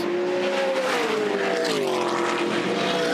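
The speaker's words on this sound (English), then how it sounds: "the supercar will be able to pull away from the TA2 car down the long chute" Supercar and TA2 race car engines scream under full throttle down Conrod Straight at Bathurst, a loud continuous howl with a falling pitch through a gear change, close and steady throughout.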